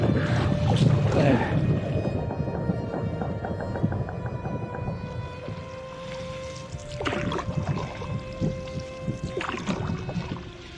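Rhythmic canoe paddle strokes dip and splash through river water in the Yukon wilderness, with steady wind noise rushing across the microphone outdoors.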